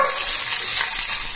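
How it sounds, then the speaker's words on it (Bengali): Bhetki fish fries in a hot pan, giving a dense, continuous sizzle up close with light stirring movement over a brief stretch, no voices present. "তো চলো ভেটকি মাছটা ভাজা হোক এখন।"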